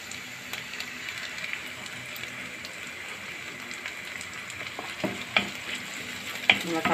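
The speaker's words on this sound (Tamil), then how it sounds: "தக்காளி நல்லா வதங்கட்டும்." Chopped onion and ground tomato sauté in hot oil in a pan for a fish curry, giving a steady close sizzle with occasional scraping stirs and clinks toward the end.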